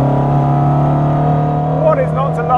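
An Alfaholics Alfa Romeo Giulia Super R 270 restomod engine drones loudly and steadily while driving, close and sustained, with brief pitch shifts near the end.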